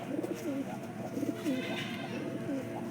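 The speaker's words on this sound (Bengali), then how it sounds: "তো এখানে একটা নর পায়রা আছে।" A male Kalenga pigeon coos softly in a repeated rhythm, its low throaty calls recurring several times over a quiet background hum.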